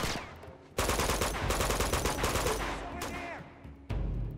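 Gunfire in the video game Uncharted 2: Among Thieves, dense bursts of rapid automatic shots in clusters with brief gaps, loud and close in the game mix.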